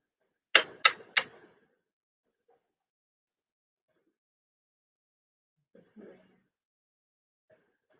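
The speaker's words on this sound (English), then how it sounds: "every time I press a key, there's a little clicking sound" A computer keyboard gives three quick, sharp key clicks in a row, close and crisp. After a long quiet stretch come a few faint, soft taps and rustles.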